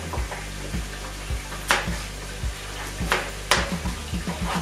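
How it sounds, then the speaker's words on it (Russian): Pork ribs sizzle and fry in a hot pan with a constant hiss, punctuated by regular clinks and taps of a utensil against the pan. "Ребрышки обжариваются."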